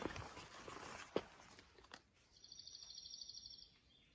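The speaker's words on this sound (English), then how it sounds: "Starting to hear a few birds." Faint, distant bird chirps in open early-morning woodland on the Appalachian Trail, a thin high trill near the end, with a few scuffing hiking footsteps and rustling early on.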